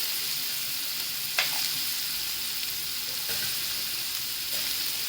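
Green chillies and onion sizzling steadily in a hot oiled pan for a baby shrimp curry, an even close frying hiss with a few faint clinks of stirring, no talking.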